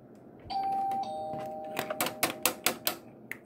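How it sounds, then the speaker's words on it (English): A doorbell at a house door rings with a clear two-tone chime, followed by a quick series of sharp knocks or rattles at the door. "Let's ring the bell."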